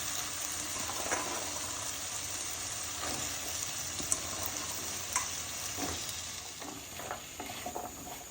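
Boiled chickpeas go into a pan of sizzling masala, making a steady, close frying hiss with faint stirring scrapes and clinks running underneath throughout.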